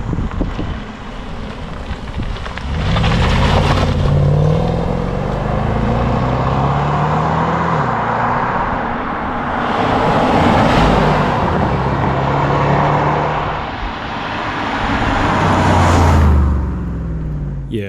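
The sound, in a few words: car engine revving, straight-piped exhaust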